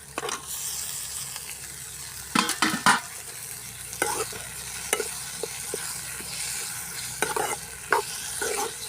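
Onions and tomatoes with curry leaves sauté in a pan for a village-style potato and egg masala, giving a steady soft sizzle broken by irregular scraping stirs, close by, with no talking.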